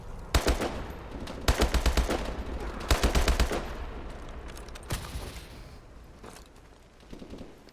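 Call of Duty: Advanced Warfare gunshots, several close bursts of rapid automatic fire in quick succession, followed by a lone sharp shot and quieter ambient game noise.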